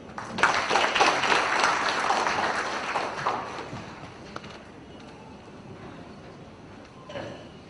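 Audience applause after a speech at an e-governance event on public service delivery in Bihar: fairly loud clapping for about three seconds, then fading into scattered claps and quiet room noise, with a brief late burst.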